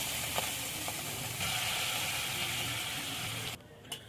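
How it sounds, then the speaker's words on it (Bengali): Steady frying sizzle of masala with white sesame seeds in a pan, loud and continuous, with a few faint stirring clinks, before the hiss cuts out sharply as water goes in near the end. "মশলাটা কষানো হয়ে গেছে, এবার জল দিয়ে দেবো।"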